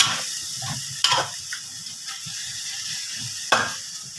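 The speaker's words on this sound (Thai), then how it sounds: "ผัดให้น้ำแห้งเลยให้เหนียวเลย" Garlic pork neck stir-fried until the sauce dries, with a steady close sizzle and hiss broken by a couple of sharp clanks of a spatula on the pan.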